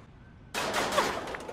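Burst of automatic gunfire from a machine gun in the Scribblenauts video game, a loud dense rattle that cuts in abruptly after near-silence and runs steadily to the end.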